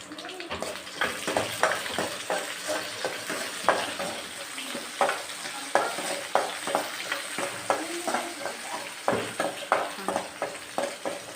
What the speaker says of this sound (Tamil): நல்லா எண்ணெய் சூடான வாட்டி இப்போ பச்சை மிளகா ஆட் பண்ணிடலாம்.